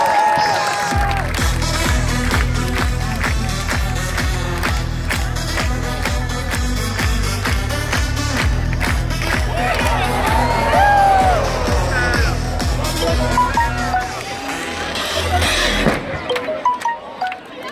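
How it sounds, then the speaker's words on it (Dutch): Ajax open day crowd applauding and cheering to welcome a new player, sustained loud clapping with whoops and shouts over a rhythmic thumping beat, fading into scattered claps at the end. "we gaan hem ontmoeten met een warm applaus"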